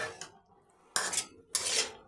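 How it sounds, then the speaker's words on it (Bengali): A spoon scrapes and clatters against a pan while ground poppy seed paste is stirred, in three short bursts of metallic scraping separated by quiet gaps. "পোস্ত বাটাটা আমি একটু ভালো করে নাড়াচাড়া করে দিচ্ছি"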